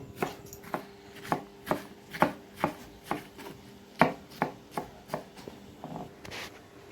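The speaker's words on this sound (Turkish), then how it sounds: "Şu şekilde domateslerimizi doğrayalım." A knife chops tomatoes steadily on a cutting board, a quick run of crisp, evenly spaced knocks up close, with no voices.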